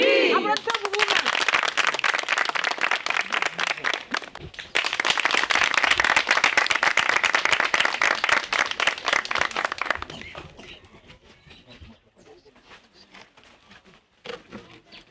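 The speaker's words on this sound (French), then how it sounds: "Applaudissez pour vous-même." Women at a women's empowerment association gathering applaud themselves with dense, loud, sustained clapping for about ten seconds, which then thins to scattered claps and quieter murmuring voices.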